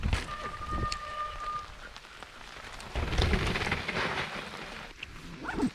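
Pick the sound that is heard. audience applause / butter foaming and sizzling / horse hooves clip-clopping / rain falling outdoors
rain falling outdoors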